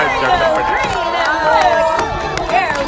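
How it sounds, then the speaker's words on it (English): A crowd at an outdoor lumberjack show on Grouse Mountain near Vancouver cheers and shouts continuously while an announcer talks over the noise, the voices loud and close throughout. "And cheer on for Lumberjacks."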